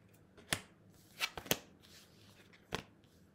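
Playing cards laid out one by one on a table for a tarot-style reading, a few soft sliding slaps and flicks spaced irregularly, close and quiet with no talking.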